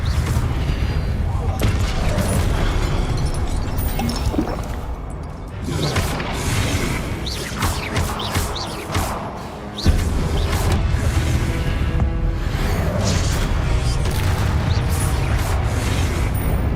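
Spell blasts and explosions from the video game Hogwarts Legacy, a dense run of loud booms, crashes and whooshes with a heavy sustained roar and sharp transients, while a voice calls out spells over the din.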